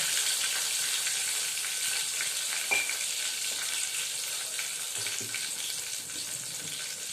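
Garlic and long green chillies fry in a pan with a steady broadband sizzle, punctuated by a few soft stirring scrapes; no one speaks.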